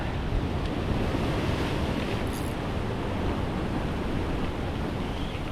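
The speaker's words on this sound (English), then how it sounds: "Come on, waves." Rough ocean waves break against rocky ledges at Shark Bay, a dense, continuous roar of surf mixed with gusty wind buffeting the microphone, close and steady.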